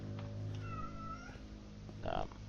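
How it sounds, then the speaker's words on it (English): A house cat meows indoors in a few drawn-out, wavering cries, with a louder, sharper meow near the end, fairly close but at modest volume. "that's my cat, who is being very annoying at the moment"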